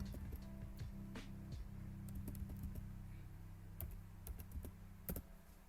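Someone types a web address on a computer keyboard in a quiet room. The keystrokes are close and quick, coming in irregular bursts with short pauses and no talking.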